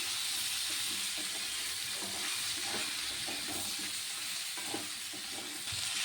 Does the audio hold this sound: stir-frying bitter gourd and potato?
yes